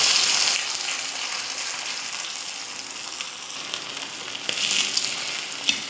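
Vanjaram fish pieces sizzle in hot oil while frying until crisp, a steady close hiss with occasional small pops and crackles.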